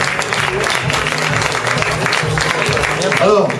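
Concert audience applauding at a support show for employees at Le Divan du Monde, a steady dense wash of clapping lasting throughout, with a host's voice speaking over it.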